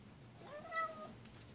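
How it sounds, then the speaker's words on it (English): A house cat gives a single drawn-out meow, rising then falling, faint and close in a quiet indoor room. "My cat's going crazy."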